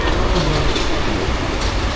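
Paris Métro train in motion, a steady loud rumble with faint rhythmic rattling of the cars, continuous and close throughout with no talk.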